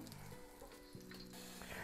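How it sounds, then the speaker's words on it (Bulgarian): Chicken pieces deep-fry in oil for a second time, giving a steady, faint sizzling crackle with occasional stirring sounds. "оставете първата да се изпържи за втори път"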